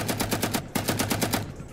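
Assault rifle fired in rapid automatic bursts in the Will To Live video game, with about ten sharp, evenly spaced shots that break briefly in the middle, loud and close with no talk.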